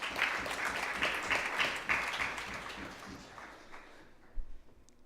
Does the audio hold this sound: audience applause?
yes